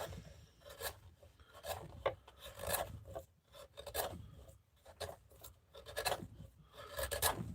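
A hand tool rasps and cuts into wood in short, repeated strokes, each a close, gritty scraping burst separated by brief pauses.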